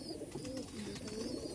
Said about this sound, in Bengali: এটা কিন্তু ফিমেল আর পুরো হোয়াইট পায়রা